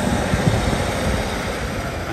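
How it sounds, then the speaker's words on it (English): At Dumfries station on the Glasgow South Western Line, a train pulls away from the platform with a steady, moderately loud mechanical rumble and hiss, and no voices. "The train over on platform 1 just pulling out now"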